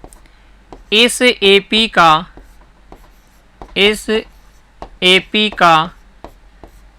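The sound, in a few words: writing on board during math lesson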